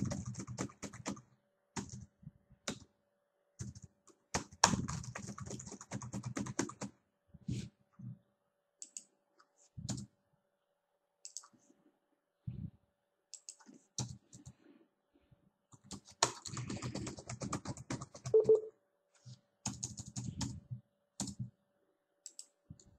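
Keys clatter on a computer keyboard as text is typed in, with bursts of quick, light clicks separated by pauses, close and fairly quiet.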